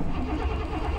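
Truck engine, sat unused for a week on a weak 9-volt battery, cranking and catching into a rough rumble, steady and close throughout the brief moment.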